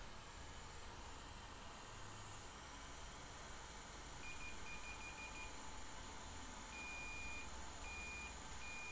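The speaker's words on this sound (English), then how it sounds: "Hear that beep?" Short electronic beeps from a multimeter continuity test on a shorted Samsung PM991 SSD circuit board, one brief burst then a longer steady tone with gaps, sounding faintly over a constant background hum.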